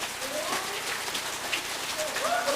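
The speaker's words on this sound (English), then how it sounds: "It is raining." Steady rain patters on surfaces outdoors in Chiapas, Mexico, a dense, even hiss of drops with faint voices in the background.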